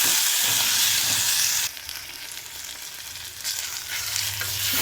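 Minced mutton keema with ginger garlic paste frying in a pan and being stirred, a loud, close, continuous sizzle and hiss that dips briefly in the middle, with scraping stir noises and no voices.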